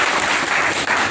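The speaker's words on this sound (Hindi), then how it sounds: "तालियां बजा दीजिए एक बार इनके लिए" Applause from a class of students for a classmate who answered correctly during an electronics repair lesson, a dense continuous patter of many hands clapping close by.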